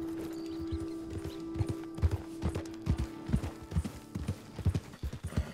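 A horse's hooves clip-clop at a steady walking pace in Red Dead Redemption 2, even and fairly close over a faint steady tonal hum, with no talking.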